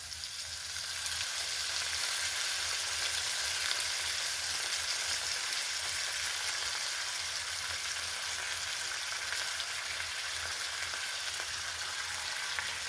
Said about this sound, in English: Now let me add in these peppers. This is an oven roasted pepper.